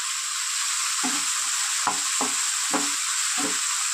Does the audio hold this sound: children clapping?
no